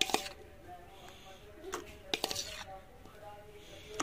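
Chopped, pitted peaches are dropped into a grinder jar, making a few clinks and soft knocks of fruit against the container, with quiet gaps between the sharper hits.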